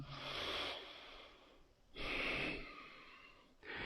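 Slow, deep breathing during a yoga class on standing poses: three long, airy breaths close to the microphone, each rising and fading with brief quiet gaps between.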